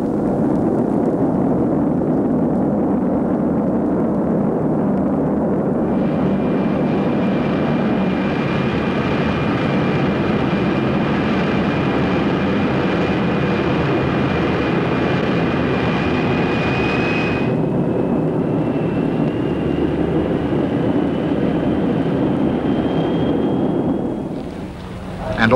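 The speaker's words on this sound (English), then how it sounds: "Refueling in flight is one of the many devices tried to cheat the fuel hungriness of the new jet power." A jet aircraft refuelling in flight gives a loud, steady engine roar for the whole stretch, with a thin high whine gliding slightly in pitch through the middle before the roar briefly eases near the end.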